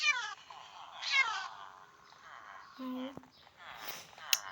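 A kitten meows several times in high, thin cries, close by, with a person speaking in between and a short sharp click near the end.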